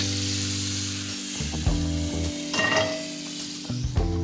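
Butter and olive oil sizzle in a cast iron skillet, a steady close frying hiss with clinks and scrapes as the pan is moved and stirred.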